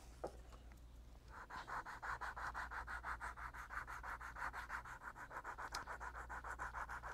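Sandpaper rubbing over leather in steady back-and-forth strokes, a rhythmic scratchy rasp repeating about twice a second, close and moderately loud with no talking.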